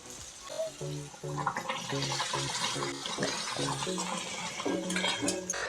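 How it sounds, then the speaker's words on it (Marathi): Heated water poured into a homemade soybean curry and stirred with a utensil, steady splashing with clinks of a spoon against the pot, heard under a voice talking throughout. "भाजी पण पाणी टाकून घेऊया गरम केलेलं"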